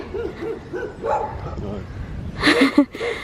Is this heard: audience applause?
no